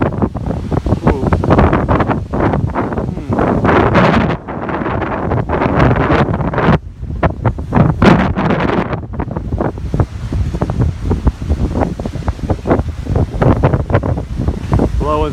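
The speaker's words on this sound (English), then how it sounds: "we're a little bit worried because the wind is so high" High winds roar across a bee ranch, buffeting the microphone with loud, gusty rumbling that surges and eases throughout, with faint voices now and then beneath the blustering.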